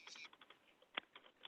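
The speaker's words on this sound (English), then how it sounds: "It's because I'm typing in Peter's name." Quiet, close-up typing on a computer keyboard while a name is entered, producing a string of light, irregular key clicks with one sharper tap partway through, and no talking.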